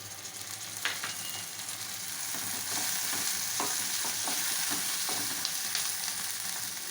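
Onions, green chillies and curry leaves fry steadily in a pan, a dense continuous sizzle with occasional sharper crackles and faint scraping strokes from stirring, close and fairly loud, no voices.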